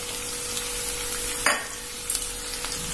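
Chopped tomato, green chillies and curry leaves sauté in a pan for poori kurma, producing a steady low sizzle broken by two sharp stirring scrapes, heard close with no speech.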